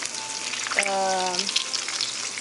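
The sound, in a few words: lobster frying in pan with tomato paste sauce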